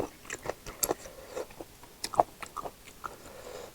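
Crunchy bites and chewing of a crispy fried mussel pancake: a steady series of sharp, close crackling crunches spread across the whole stretch, loud against a quiet background.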